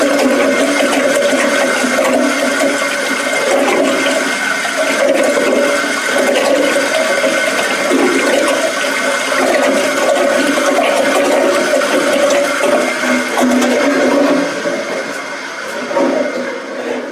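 A running toilet lets a steady, loud rush of water flow on for about fifteen seconds before easing slightly near the end.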